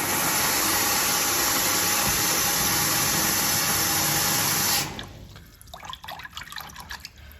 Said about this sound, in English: I'm going to use cold water from the tap to get to the right temperature.